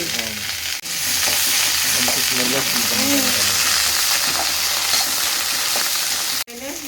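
Sweet corn fries in butter in a pan, a loud, constant crackling sizzle with stirring scrapes mixed in, close up, broken by two short gaps.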